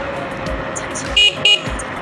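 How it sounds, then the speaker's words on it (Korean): An aftermarket horn fitted to a ride-on electric scooter used by a designated driver gives two short, loud honks that sound like a car horn, heard against steady road and traffic noise. "이 빵빵이도 옵션으로 바꾼 거예요. 이게 거의 차 빵빵이랑 비슷한 소리가 나거든요."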